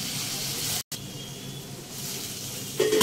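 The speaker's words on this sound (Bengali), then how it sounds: "এটা একটু ভাজা হোক ততক্ষণ" Vegetables fry in a pan with a sprinkle of chili powder, a steady close sizzle broken by a brief silent gap, then rising a little with a sharper hiss near the end.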